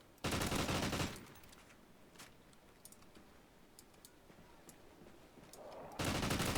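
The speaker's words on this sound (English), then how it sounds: "They're starting to shoot." Rapid automatic gunfire bursts from a Call of Duty: Ghosts match during a winter storm, loud at the start and end with scattered sharp shots and clicks in between.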